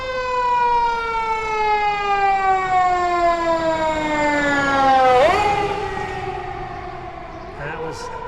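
Fire engine 16 siren wailing loudly as the truck passes close by on a narrow street, its rising tone dropping sharply with the Doppler shift as it goes past, then fading.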